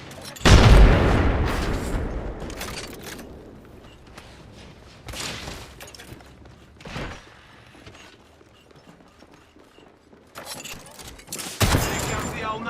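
In a video game firefight, a loud grenade blast booms up close, followed by scattered bursts of gunfire and further sharp impacts over a low battle rumble.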